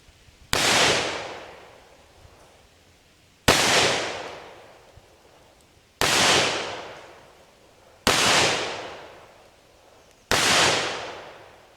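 Five sharp, loud gunshots from a .38 caliber gun firing copper plated bullets, evenly spaced roughly two seconds apart, each with a short decaying echo.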